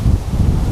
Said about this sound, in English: It's getting windy now as well.